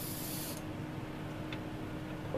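An airbrush fed by a Campbell Hausfeld 1-gallon compressor at 35 PSI lets out a short, close hiss of spray that cuts off after about half a second, leaving a faint background hum.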